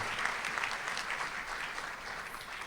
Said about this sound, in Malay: Marilah kita sama-sama memberi satu tepukan gemuruh kepada Yang Amat Berhormat Perdana Menteri di atas kehadiran beliau